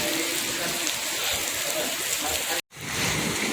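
Steady rain pours down at a bus stop, a dense continuous hiss close by and fairly loud, broken by a brief gap before resuming.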